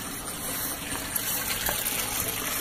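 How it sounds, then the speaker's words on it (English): Water flows out of a new pipe into an aquaponic grow bed, making a steady, moderate gushing splash close by with no talk. "Got water flowing out of it."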